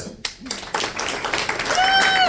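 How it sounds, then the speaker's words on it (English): Audience applause and clapping for Linda, a paramedic, at a live storytelling show, building steadily and loud over a couple of seconds, with voices and cheers mixed in. "Another round of applause for Linda"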